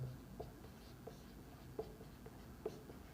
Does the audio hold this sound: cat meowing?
no